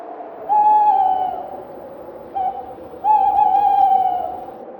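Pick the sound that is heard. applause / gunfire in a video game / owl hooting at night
owl hooting at night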